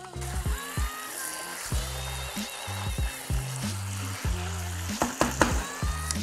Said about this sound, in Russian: мы обжариваем еще в течение 2-3 минут блюдо и выключаем огонь